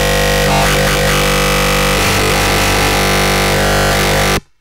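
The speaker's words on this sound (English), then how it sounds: "everyone knows FM growls take forever to make" A loud, dense FM synth bass growl with a gritty, harmonically rich tone, shifting in texture across a few phrases before cutting off abruptly.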